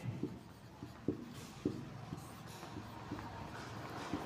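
Chalk or marker strokes on a classroom board, faint irregular taps and scratches in short bursts with quiet pauses between, recorded up close at low level while nobody speaks.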